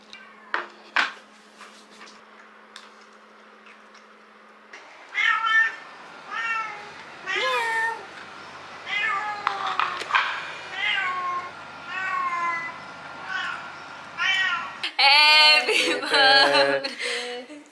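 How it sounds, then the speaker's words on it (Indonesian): A pet cat at home meows over and over while being fed, the calls near and fairly loud, with a few clinks of a dish or cupboard and some quiet talk in the background. "jadi saya tolong dia kasih makan ini kucing dia"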